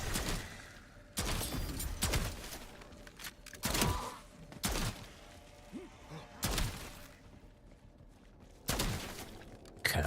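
Shotgun blasts in Black Ops 7 Zombies, a handful of loud booming shots spaced a second or two apart, each with a short decay, over a low game ambience.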